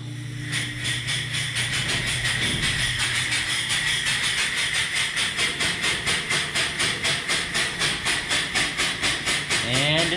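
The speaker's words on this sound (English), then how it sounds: "let the air into the pump." Air hisses steadily as a pump's air valve is cracked open to drive it while it is tested with a bucket, a continuous loud hiss over a rapid rhythmic chugging pulse that runs throughout, with a brief voice near the end.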